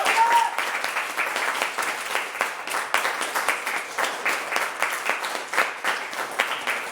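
A church congregation applauds during a Sunday service, a sustained wash of many clapping hands from start to finish, dense and even, at moderate distance with no talk over it.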